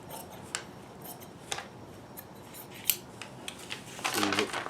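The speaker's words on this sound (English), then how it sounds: "I'm just going to do a little snip here so that I can see where it lines up on" Scissors making a few small snips into fabric for an athletic underwear project made from recycled socks, soft separate clicks spread across the clip, with a louder rustle of handling near the end.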